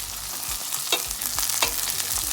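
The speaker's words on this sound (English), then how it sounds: "I'm gonna go in with my celery at the moment" Chopped celery hits a hot frying pan and sizzles steadily, with soft stirring scrapes and a few louder crackles, close and continuous with no talk.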